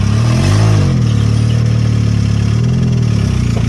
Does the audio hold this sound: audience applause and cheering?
no